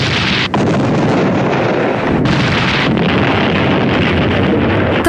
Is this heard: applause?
no